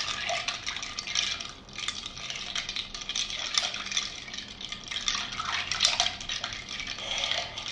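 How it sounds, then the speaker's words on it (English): An Old Fashioned cocktail is stirred over ice, producing a close, continuous swishing and rattling of ice against the glass with irregular clinks, fairly loud and with no voices. "let's give this a stir before too much of this ice melts into this"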